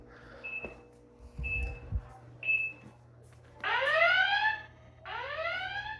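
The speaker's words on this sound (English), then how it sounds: "So now I got 15 seconds to type the code in or the alarm goes off." A home security system reacts to a tripped motion sensor, first with three short spaced chirps, then a loud, rising warbling siren that sounds twice in long blasts.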